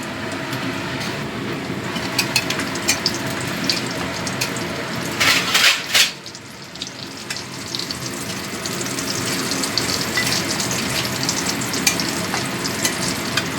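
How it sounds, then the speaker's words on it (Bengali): Loud, continuous crackling sizzle of lentil dumplings frying in oil, with a brief burst of sharper spattering midway, then a steady hiss. "এবার আমি বড়িগুলো ভেজে নিচ্ছি"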